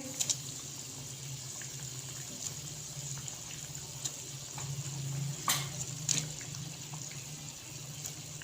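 Koftas for gobi kofta curry dropped into a pot of boiling water, giving a steady watery bubbling and gushing with a few brief splashes, fairly close and without talk.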